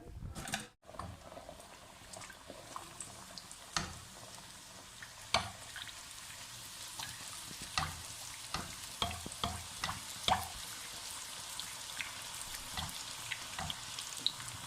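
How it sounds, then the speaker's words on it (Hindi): Bhatura frying in very hot ghee, a steady crackling sizzle with scattered sharper pops and occasional stirring clinks, moderately quiet and heard without talk. "भटूरा पकने में कोई टाइम नहीं लगता, ज़्यादा से ज़्यादा 10 सेकंड में भटूरा तैयार हो जाता है, क्योंकि घी हमारा काफ़ी गर्म होता है"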